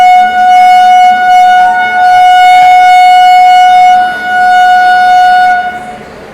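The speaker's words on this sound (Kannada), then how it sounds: "ಇದು ಟ್ರೈನ್ ಡಿಪಾರ್ಟ್ ಆತ್ರಿ" A Hampi Express train horn sounds as the train departs from Hubballi, a long, loud, steady blast that holds for about six seconds before fading.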